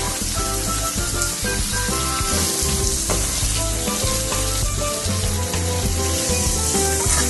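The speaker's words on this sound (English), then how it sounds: "I'm hearing the sizzle." Onions, garlic and peppers sizzle steadily in hot coconut oil in a pot, a loud, dense frying hiss that runs continuously from start to finish with no talking.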